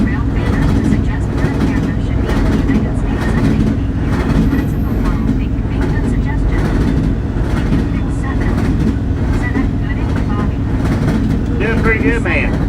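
A long freight train with three engines hauling double-stack and piggyback cars rolls past, a steady low rumble and clatter that holds throughout, with a voice talking faintly over it.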